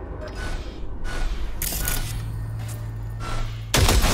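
Gunfire in Cyberpunk 2077 on a firing range: a short burst aimed at a junk pile, sharp loud reports over a low hum, with a heavy blast at the end.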